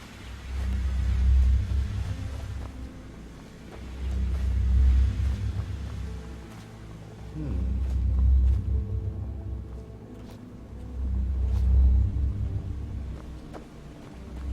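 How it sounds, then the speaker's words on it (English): Deep, bassy ambient rumble of an area in the video game Enderal, a Skyrim total conversion, swelling and fading in slow waves about every three to four seconds, alone and fairly loud. "this area is making a really cool, deep, bassy, rumbly sound"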